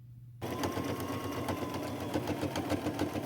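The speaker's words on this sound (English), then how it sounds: "sew it on" Sewing machine stitching a patch onto an old pair of jeans starts abruptly and runs steadily and close, a dense fast mechanical whirr with rapid rhythmic needle pulses throughout.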